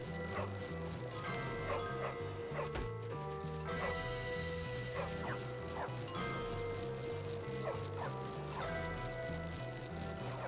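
A dog barks and yips in Bully: Scholarship Edition, short repeated game barks scattered over a constant looping music bed with steady background game noise.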